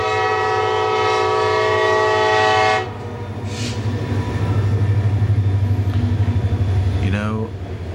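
A train passes on a nearby railway track, with a loud sustained horn blast followed by the rumble and rhythmic clatter of cars rolling by, and a squeal near the end.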